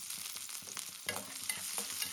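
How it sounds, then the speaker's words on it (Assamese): Garlic, chili and onion fry in hot oil in a home kitchen, giving a steady sizzle. Repeated stirring clinks and scrapes sound close by, and no one speaks. "এয়া তেলখিনিত নহৰু, জলকীয়া, পিঁয়াজ দি ধুনীয়াকৈ ভাজি ল'ম।"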